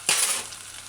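Chili bean sauce hitting a hot pan of chicken in a stir-fry, a sudden loud sizzle that flares up and then settles into a steady frying hiss.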